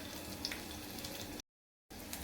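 Garlic frying in hot oil with cumin in a pan gives a soft, steady sizzle and faint crackle, briefly cut to silence before the sizzling resumes.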